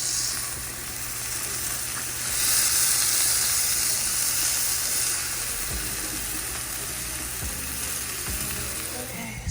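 Potatoes and other food sizzle and hiss steadily in a hot pan on a home stove, with the frying swelling louder for a few seconds and occasional soft knocks of stirring or handling.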